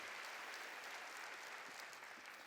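A church congregation applauds together in a dense, continuous round of clapping that sounds distant and soft and holds steady throughout.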